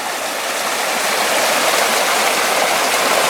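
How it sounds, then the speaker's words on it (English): A creek runs outside an old placer mine, its steady, close rushing and gurgling holding an even level throughout with no one talking. "There's an attractive creek here outside of the mine."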